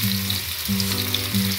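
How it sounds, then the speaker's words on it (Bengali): Pieces of chicken tikka frying in a kadai, with a steady, loud sizzle of hot oil throughout and a low background hum, no talking over it. "এক পিঠটা একটু ভাজা হয়ে গেলে আরেক পিঠে উল্টে দিতে হবে।"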